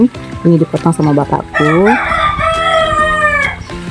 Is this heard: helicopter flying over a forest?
no